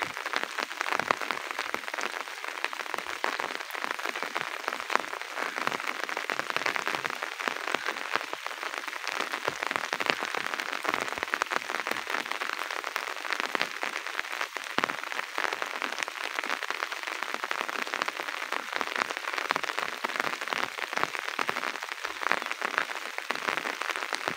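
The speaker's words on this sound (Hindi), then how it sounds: "बारिश बड़ी तेज लगी हुई है" Steady heavy rain pours down continuously over a rural village, a dense hiss of drops drumming on surfaces with no voices.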